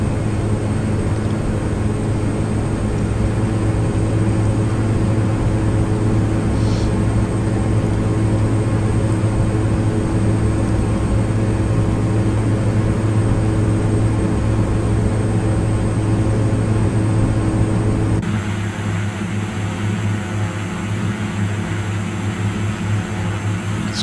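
Steady drone of a Pilatus airplane's engine heard from the passenger view in X-Plane 11, a constant loud hum with a low tone throughout, dropping slightly in level toward the end, with no talk.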